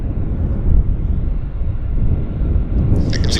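An Airbus A350 airliner passing at Vancouver airport, a broad low engine roar that stays steady for a few seconds, heard from a distance with some wind noise.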